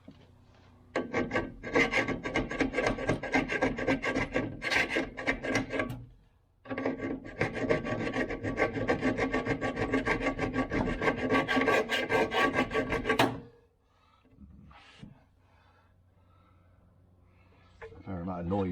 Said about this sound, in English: see if we can file this slightly